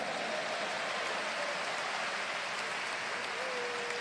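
Audience applause fills a church convention hall, a steady, dense wash of clapping that holds evenly throughout at a moderate, somewhat distant level, with faint voices rising briefly over it.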